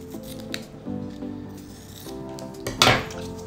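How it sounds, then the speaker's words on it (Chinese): Scissors snip a hole into a folded piece of material while a stress ball is being made by hand; several short crisp cuts and rustles lead to one sharper, louder snip near the end, close up with no talk. "在旁边这边中间呢，我们也剪一个洞。"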